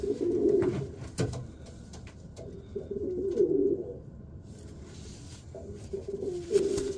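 A racing pigeon coos in low, throaty rolling bursts, three separate phrases close by, with faint rustling and handling noises between them.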